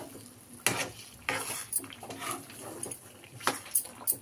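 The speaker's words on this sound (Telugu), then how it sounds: "బాగా మిక్స్ చేసుకోండి." Dates being stirred into halwa in a pan, with a spoon scraping and clinking against the metal in several distinct strokes, close and fairly quiet.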